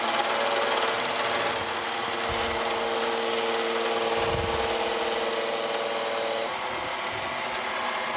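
Milling cutter taking a cut across a steel swivel jaw for an Emmert 6A toolmaker's vise, a steady close grinding and scraping rasp with a constant machine whine that shifts in tone partway through, no talking.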